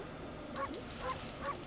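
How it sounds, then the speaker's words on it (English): A cartoonish dog in the Okami video game gives three short, evenly spaced barks, soft and clean over a quiet background. "I have a bark button?"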